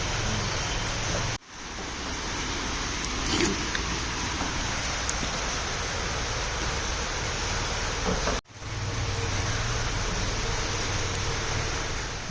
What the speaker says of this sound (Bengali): সারাদিনই টুকটুক টুকটুক করে বৃষ্টি পড়তেই আছে